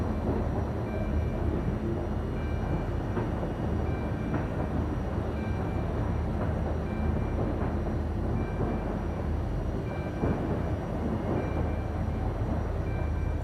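A train in the video game Docked rumbles steadily along the track, a continuous dense rolling noise with faint rhythmic clatter and no speech.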